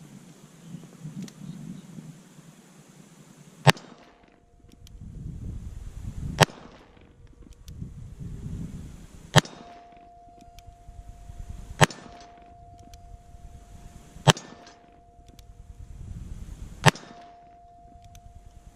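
Six sharp gunshots from a short-barreled Ruger Vaquero Birdhead revolver fired at a distant target, spaced about every two to three seconds with a ringing tail after each report, loud and close.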